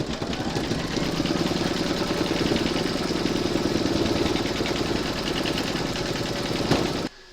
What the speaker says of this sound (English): that's going to do the final round of stitching, which is a satin stitch of the hat